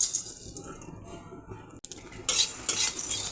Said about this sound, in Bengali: কিছু মশলা ভেজে নেব